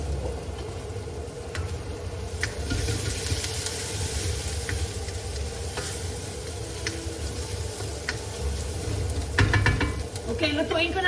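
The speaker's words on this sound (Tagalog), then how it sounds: "So, ganyan ang pagluto ko guys ng adobo. Tinutusta ko muna siya." Chicken adobo sautéing and being stirred in a pan, with a steady low sizzle and occasional scraping clinks from a utensil, close by and continuous with no talk.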